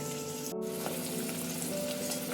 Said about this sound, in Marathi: मी अशा प्रकारे आधी पनीरला हे करून घेते आहे फ्राय ऑइलमध्ये